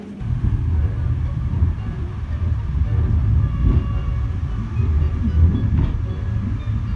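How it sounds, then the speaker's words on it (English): A train rides down from a mountain summit near Rjukan, Norway, giving a steady loud low rumble with a rolling rattle of the cars, heard from on board for the whole stretch. "we are going to take the train down"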